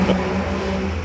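A Ford Ranger T9 runs with a steady low engine drone just after starting on a new Nanex 12 V 50Ah battery, close and even throughout the short stretch.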